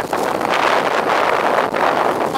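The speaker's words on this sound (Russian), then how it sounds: "Вот здесь именно, знаете, здесь как в трубу прям все дует." Strong wind gusts roar through a street in Anapa, buffeting the microphone with loud, continuous rushing noise that swells and eases with no talk.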